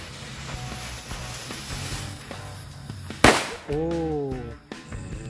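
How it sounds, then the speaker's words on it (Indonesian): A pink UFO firecracker bursts with one sharp bang, followed by a rising, warbling whistle that wavers for over a second. Steady crackling and distant pops from other New Year fireworks fill the background throughout. "yang kita nyalakan adalah mercon UFO warna pink"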